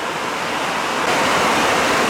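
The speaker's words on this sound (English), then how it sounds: "it's pouring now and raining" Heavy rain pouring down steadily outdoors while a two-speed Horton fan clutch is worked on, a loud, dense, continuous hiss that swells slightly louder partway through, with no voices.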